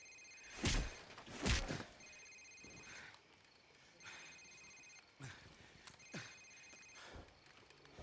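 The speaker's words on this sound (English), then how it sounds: "Sir, it's his cell phone." Cell phone ringing in Call of Duty 4, a repeating electronic ring in short bursts separated by pauses, fairly quiet, with a couple of louder thumps near the start.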